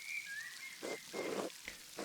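Light rain falls steadily in the video game Pentiment, a soft patter with faint tonal chirps and intermittent low bursts over a quiet background.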